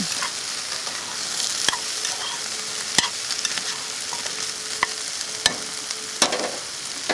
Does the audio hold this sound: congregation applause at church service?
no